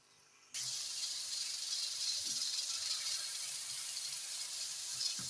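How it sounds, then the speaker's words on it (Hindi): Chicken frying in oil in a karahi: after a brief quiet moment, a loud, steady sizzling hiss starts abruptly and continues unbroken, close up. "चिकन के वाइट होने तक और चिकन का पानी ड्राई होने तक मैं इसे फ्राई करूंगी।"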